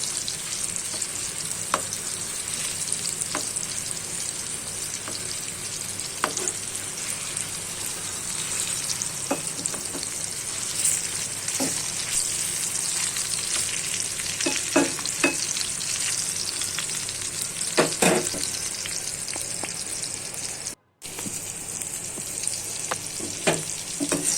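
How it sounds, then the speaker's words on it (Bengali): Steady oil sizzle from pointed gourd frying in a pan, with occasional soft clicks of stirring; continuous and fairly close, no voices. "তো আমার পটল ভাজা হয়ে গেছে"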